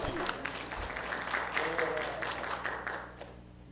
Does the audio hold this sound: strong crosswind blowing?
no